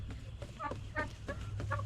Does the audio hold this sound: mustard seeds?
no